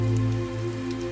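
Steady rain drums on a car during a highway drive, a constant close patter layered over a low, humming road drone with no voices.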